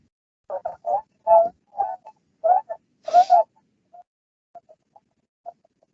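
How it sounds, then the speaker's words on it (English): Repeated soft, hooting whistles from tundra swans, a burst of clustered calls followed by fainter, sparser notes, heard clearly against silence. "everything you're going to hear is just their vocalization sounds that they make"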